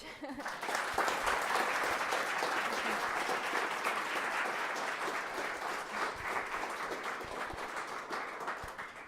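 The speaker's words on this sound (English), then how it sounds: "let's do a huge round of applause for Aisha" A meetup audience at a Kubernetes and cloud native event in Berlin gives a long, dense round of applause after a talk, with steady clapping from many hands that stays loud for the full stretch before easing slightly.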